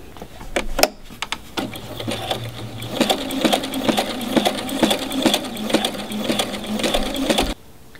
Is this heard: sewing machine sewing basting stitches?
yes